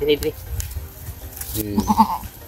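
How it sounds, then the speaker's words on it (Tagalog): A hybrid goat on a farm gives a couple of short, close bleats, mixed in with people talking nearby. "May kambing na ako. Na hybrid, you know."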